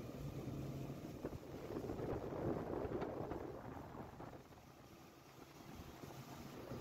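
A homemade boat planing fast at around 20 to 25 knots with its engine running, a steady broadband roar of engine, hull and water mixed with heavy wind buffeting on the microphone throughout.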